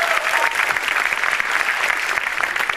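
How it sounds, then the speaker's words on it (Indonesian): Audience applause for Bang Ipul at an Indonesian stand-up comedy show: a steady, dense wash of clapping from a crowd, sustained and fairly loud throughout without letting up. "Beri tepuk tangan dulu buat Bang Ipul"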